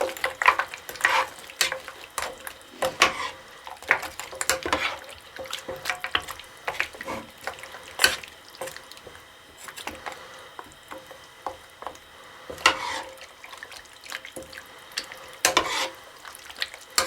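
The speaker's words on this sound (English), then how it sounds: "We're going to continue to simmer for about 5 to 7 minutes or until the tortellini is tender." Cheese tortellini simmer in a pot, heard up close as sharp clinks, scrapes and bubbling pops that come in irregular bursts over a low wet hiss, with no talking.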